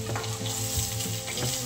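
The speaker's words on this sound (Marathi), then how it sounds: "जो उरलेला मसाला असतो तो याच्यामध्ये ॲड करून द्यायचा आणि परत 5 मिनिट आपल्याला भेंडी शिजवून घ्यायची" Okra cooks with masala in a pan while it is stirred, a steady close sizzle with soft scraping stirs now and then.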